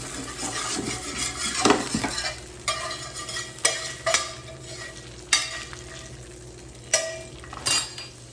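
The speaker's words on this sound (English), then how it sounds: "My fish is cooking." Salmon fillet cooking skin-side in a hot pan for stuffed salmon, with a steady low sizzle broken by repeated scraping and stirring clatters of a utensil against the pan, close and clear with no talking.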